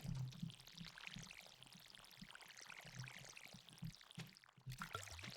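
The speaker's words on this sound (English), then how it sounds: "I've decided to water." A watering can pours onto crops in a farming video game, making soft, repeated splashing and pouring sounds that stay quiet and even throughout.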